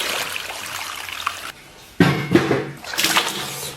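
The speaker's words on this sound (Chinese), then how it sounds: "把这些羊排骨啊给它分开，给里边来点水清洗一下" Tap water runs steadily over lamb ribs being rinsed in a bowl, splashing in bursts with brief quieter gaps and no voices.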